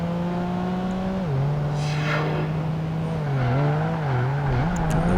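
A Mazda RX-7 racing car in Project Gotham Racing 2 holds a steady, close engine whine that dips and climbs through shifts and corners, with a brief tire squeal along the way.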